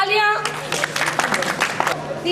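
Children clap at a school camp outdoors, a short ragged burst of hand claps that follows a voice at the start.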